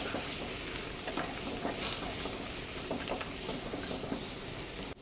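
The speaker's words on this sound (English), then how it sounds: "So you have to be careful while sauteing this in and be careful and have an eye on the pan." Mutton sautés in a pan with salt and turmeric, giving a steady, close sizzle and frying hiss. Light scraping and patter from stirring run through it.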